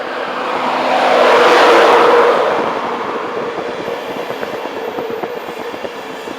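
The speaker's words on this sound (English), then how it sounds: "Now coming in, the 1316 East Coast service from King's Cross to Edinburgh Waverley." East Coast passenger train from King's Cross to Edinburgh Waverley arriving at Peterborough station, a loud rushing rumble that swells as it passes close by, then settles into a steady rolling clatter of wheels on rail.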